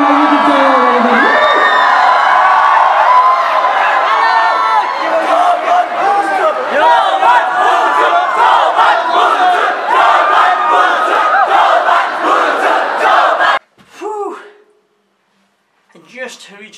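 A large crowd at a live music performance at Trisara cheers, whoops and shouts loudly and continuously for about thirteen seconds, then cuts off abruptly, leaving brief faint sounds near the end.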